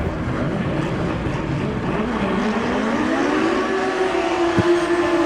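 A drag racing motorcycle warming up in the right side tower lane, a steady droning hum whose pitch slowly rises and then holds, sounding somewhat distant against a constant background.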